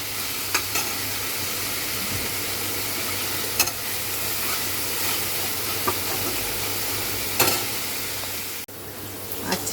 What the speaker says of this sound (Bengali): আজকে এই পেঁয়াজটা একটু ভাজা ভাজা হয়ে গেছে